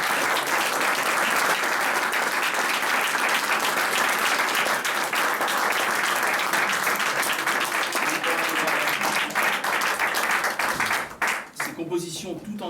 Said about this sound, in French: On va les applaudir à Julien et Moqueux